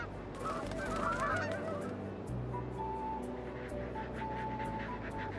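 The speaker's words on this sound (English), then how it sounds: "We're here on Tiglax to look for Aleutian Canada goose nests." Several Aleutian Canada geese honk repeatedly in a clamorous flock in Alaska, calls overlapping near and far over a steady low rumble of wind or engine noise.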